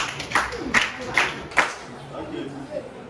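A few scattered hand claps, about four sharp separate slaps over three seconds, with voices around them rather than full applause.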